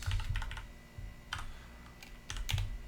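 Someone typing Java code on a computer keyboard, quiet clusters of quick key clicks in short bursts with brief pauses between, close and alone.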